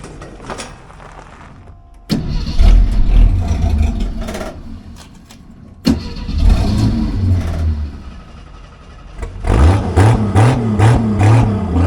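A car engine cranks and catches in repeated bursts, roaring and revving briefly three times with short lulls between, loud and close.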